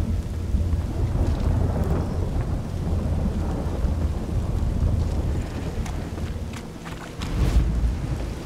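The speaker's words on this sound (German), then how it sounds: "Ich meine, ist klar, ein Gewitter ist laut." Thunderstorm in The Witcher 3, with heavy rumbling thunder and steady rain or wind noise, loud and continuous throughout, with a stronger crack near the end.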